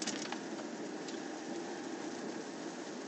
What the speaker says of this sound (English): It sucks that it's raining